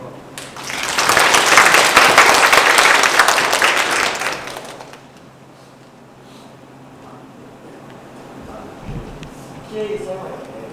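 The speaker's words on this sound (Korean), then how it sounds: "우선 박수로" Audience applause closes a talk at a university security colloquium, a dense burst of clapping lasting about four seconds before fading into a quiet room with faint movement and distant voices.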